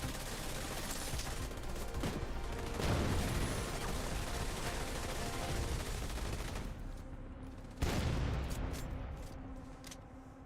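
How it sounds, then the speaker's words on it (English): Explosions burst over and over in a shooter video game, from the Division 2 explosive delivery effect, as a dense, loud, continuous barrage of blasts and gunfire-like cracks. The sound barely pauses before a fresh burst near the end. "someone has the explosive delivery on it because it's exploding over and over"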